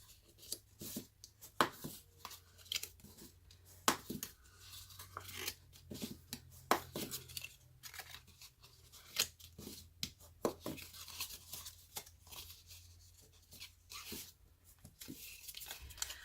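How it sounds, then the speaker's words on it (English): Paper being folded and burnished along score lines for a stamped Hershey Nugget holder, a run of short crisp scrapes and rubbing strokes, close and fairly quiet, with no voices. "And then we can go ahead and fold and burnish our score lines."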